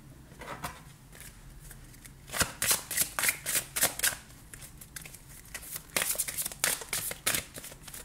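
Tarot cards shuffled by hand before a reading, a series of crisp riffling bursts with short pauses between, close and fairly loud, with no talking.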